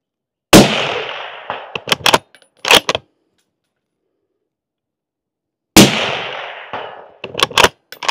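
A rifle fitted with a KGM R30 suppressor fires at a target 250 yards downrange, producing two sharp suppressed cracks several seconds apart, each followed by faint distant impact pops and echoes in an otherwise quiet outdoor setting.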